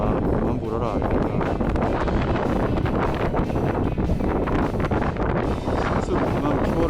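Strong headwind at a freshwater fishing spot buffets the microphone with loud, continuous roaring gusts, and voices are barely audible beneath it.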